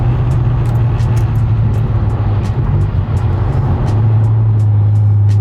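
A tuned, semi-stock Corvette making a full-throttle pull, its engine a loud, steady drone that holds strong throughout, heard close with no voices over it.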